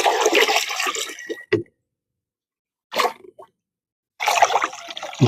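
Water pouring into a container for mixing fertilizer solution, two bursts of splashing, filling and trickling with a silent gap between them and a brief splash in the middle.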